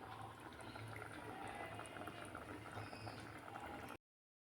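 Date and mango leather chutney bubbling steadily in a pot, a continuous close, dense boil with fine popping and gurgling, with no talk.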